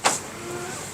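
Powered tailgate of a Jaecoo J7 SUV moving, a brief sharp click at the start followed by a soft steady electric motor whine, close and moderately loud, with no voices.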